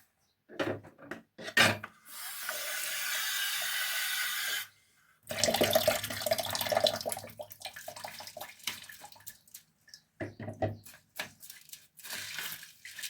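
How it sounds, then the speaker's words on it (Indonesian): A little water is poured from a tap-like stream into stirred tomato paste in a pan, a steady rushing pour of several seconds, followed by wet stirring and scraping noises close by. "Kita aduk, kita beri air sedikit."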